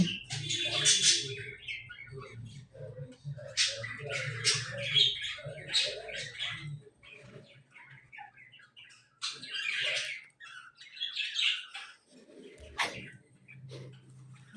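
Harsh, agitated bird squawks and chirps come in repeated bursts, loud and close, with a low background hum.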